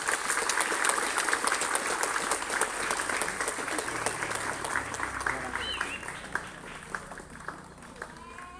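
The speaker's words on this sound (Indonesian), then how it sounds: "Tepuk tangan untuk kaum santri." A crowd at an Indonesian Santri Day ceremony breaks into applause, dense clapping at first that thins out and fades toward the end, with a few scattered claps lingering.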